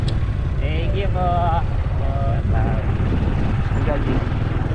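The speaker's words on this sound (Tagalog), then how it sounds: "Papalipad ng drone." A large drone flies overhead with a loud, continuous buzzing whir under outdoor chatter, as several people talk and exclaim nearby.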